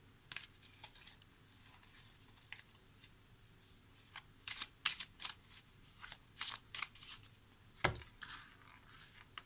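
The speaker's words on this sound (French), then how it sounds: "on va prendre une carte de l'oracle des amoureux" Oracle cards shuffled by hand for a love reading, a series of soft riffling and tapping bursts that grow more frequent partway through, close and fairly quiet with no talking.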